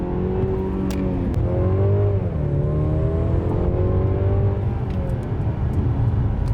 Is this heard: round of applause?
no